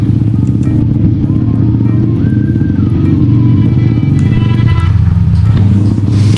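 A motorcycle rides slowly over a rough, damaged mountain road in winter near Munsyari, its engine a loud, steady close drone with some rattling, no talk heard.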